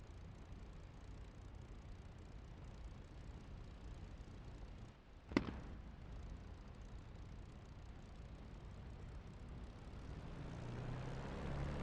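P-51D Mustang piston engine idling at 1,500 RPM in a flight simulator game, a faint, steady low drone that runs evenly throughout, broken once by a single sharp click midway.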